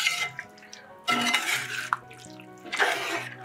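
A spoon stirs Kerala-style beef curry in a pot, giving a few short scraping, sloshing bursts against the metal, fairly close and quiet with pauses between strokes.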